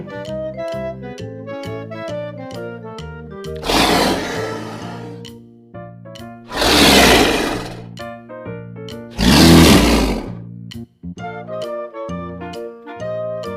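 Three deep, raspy roars of a leopard rise and fade at intervals over a bouncy, plinking musical backing.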